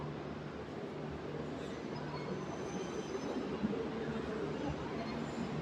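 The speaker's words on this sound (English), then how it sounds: "That train underneath me there is going through to Newport, through to Williamstown and to Werribee." Train on the Williamstown-Werribee line in Melbourne passing below the listener, a steady low rumble of rail wagons running continuously throughout, fairly close with no talk.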